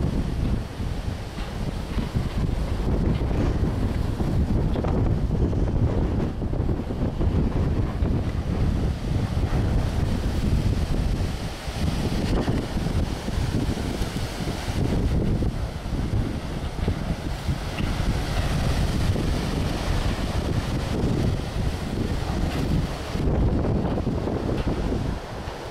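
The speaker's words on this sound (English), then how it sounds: "Man, is it windy out." Strong gusting wind from an extreme October storm in Hollandtown, Wisconsin roars continuously, buffeting the microphone with loud, rumbling blasts that swell and ease over nearly half a minute, with no talk.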